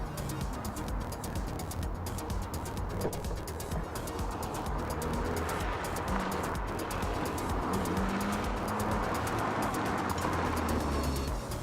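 A road car drives along with a dense, steady engine and road rumble mixed with broadband tyre and wind noise, moderately loud and continuous with no talk over it.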